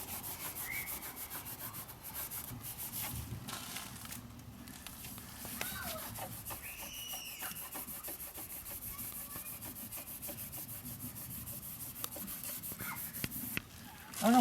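A brush scrubs paint off the transom of a StarCraft Chieftain boat, soft repeated rasping strokes, faint and close, with no talk.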